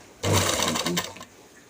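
A sewing machine top stitches a seam in one short, close burst of motor whir lasting about a second before stopping.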